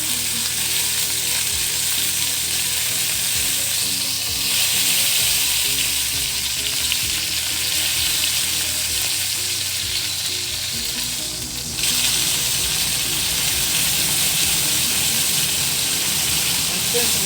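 Bacon browning in a hot pan for a steak hot pocket, giving a loud, continuous crackling sizzle that holds steady throughout with only slight swells, and no talking over it.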